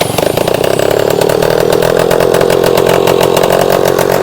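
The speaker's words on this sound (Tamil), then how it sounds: "ட்ரில்லிங் மிஷினை வச்சு செல்ஃப் மோட்டர் மாதிரி ஆன் பண்ணி பார்க்கலான்ட்டு" A homemade drift trike's small engine is spun up with a power drill used as a starter motor, giving a loud, continuous, rasping buzz like a chainsaw that holds steady throughout.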